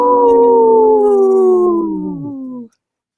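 A single long wolf howl, loud and close, that slowly slides downward in pitch before cutting off abruptly.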